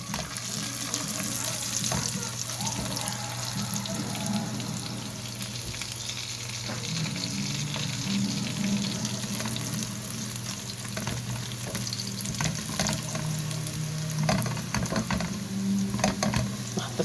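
Herring and mackerel fry in hot oil with a loud, continuous sizzle and crackle, scattered with small pops and clatter throughout.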